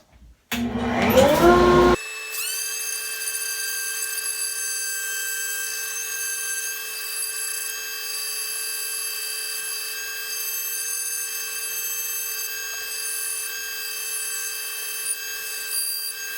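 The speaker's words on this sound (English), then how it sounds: "Hopefully I can trap most of the airborne dust that's coming from the sander." A sander works on a wooden trinket box while a dust collector runs nearby. After a brief rough start-up, a steady, loud, high whine holds unchanged throughout.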